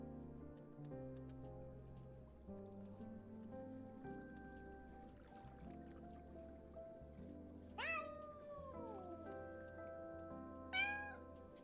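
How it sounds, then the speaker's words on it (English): A cat in the indie PC game Calico gives two distinct meows several seconds apart, rising then falling, over a soft steady ambient music bed. "What's going on with that cat?"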